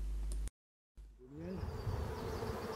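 Honeybees hum and buzz over an open hive during a beekeeping training session, a steady near drone of many insects after a brief cut to silence.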